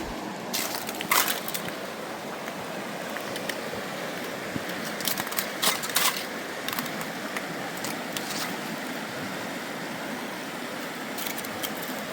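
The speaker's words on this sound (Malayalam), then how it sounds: "ഐസൊക്കെ ചവിട്ടി പൊട്ടിച്ച് ഞങ്ങൾ അതിലേക്കൂടെ നടക്കുമ്പോൾ" Scattered sharp cracks and crunches of footsteps breaking brittle river ice sound irregularly over a constant rushing background, in Kazakhstan.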